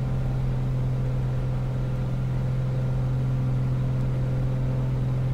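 A Piper Comanche engine at full power during a takeoff roll in a flight simulator game, a steady, droning low hum with a strong constant tone and no voices, unchanging across the whole stretch.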